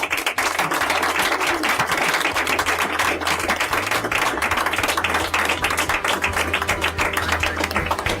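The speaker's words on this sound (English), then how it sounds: "Let's give them another round of applause" A round of applause at a sobriety anniversary meeting, a modest group clapping nearby with distinct sharp individual claps forming a busy, uneven patter that carries steadily for several seconds.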